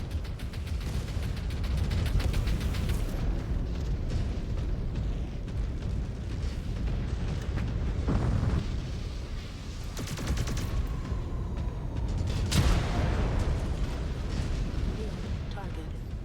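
Missile explosions in a video game, loud booming blasts over continuous rumbling battle noise with scattered sharp impacts, and a voice speaking at times.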